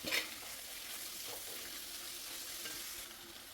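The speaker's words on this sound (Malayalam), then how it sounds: "ഉള്ളിയൊക്കെ വഴണ്ട് വന്ന് നമുക്ക് അതിലേക്ക് പൊടികൾ ആഡ് ചെയ്ത് നോക്കി. എന്നിട്ട് തക്കാളി ഇട്ടു" Onions, spice powders and tomato frying in a pan for crab roast, giving a steady, quiet sizzle with faint stirring and no voices.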